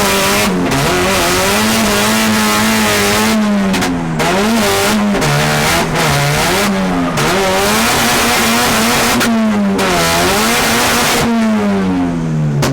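A Nissan 180SX drift car with a slipping clutch runs hard from inside the cabin, its engine revving loudly and continuously, rising and falling through repeated surges with tire noise throughout.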